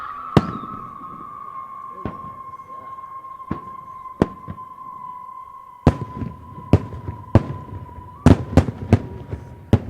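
Firework rockets from a flight by a Florida pyrotechnics artist burst in a series of sharp, loud reports, scattered singly at first and then crowding together near the end, over a steady whistling whine and background crowd murmur.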